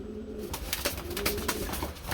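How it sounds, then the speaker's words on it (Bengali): Lotan pigeons cooing in a loft, a steady run of soft, throaty coos and rustling close by with no talking. "আমরা বন্ধুরা আরেক জোড়া লুটন কবুতর দেখাবো"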